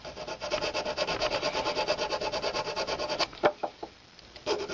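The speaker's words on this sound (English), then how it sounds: "get your file, just come in where you made that cutting with the high-speed steel burr" A hand file rasps over a metal prong setting where a high-speed steel burr cut a seat for a stone, giving steady rhythmic close strokes for about three seconds, then a few separate scrapes.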